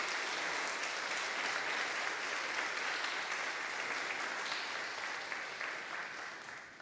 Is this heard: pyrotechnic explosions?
no